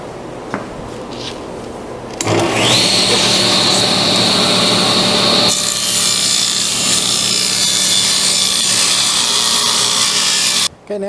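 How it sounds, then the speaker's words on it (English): A miter saw set at 45 degrees cuts a wooden workpiece for a bookcase base: a power saw spins up loudly, whines through the wood for several seconds, then drops off abruptly near the end. "now I got my miter set at 45 degrees, but I put my workpiece flat against the bottom of the saw here"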